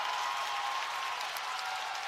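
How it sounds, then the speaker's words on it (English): A Goreville high school basketball crowd roars in a gym during a sectional championship game after a three-pointer, a loud sustained wall of cheering and clapping with no letup. "This Goreville crowd coming alive."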